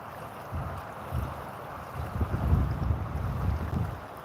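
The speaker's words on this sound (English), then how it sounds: "God, this wind is brutal." Cold, blustery wind gusts outdoors on the water during a fishing trip, a low rumbling buffet against the microphone that swells and dips in uneven bursts, loudest toward the middle, with no talk.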